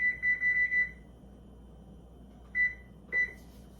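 A kitchen timer set for a skillet rhubarb pie bake gives a quick run of four close electronic beeps, then two more separate beeps after a pause, clear and nearby over a low background hum.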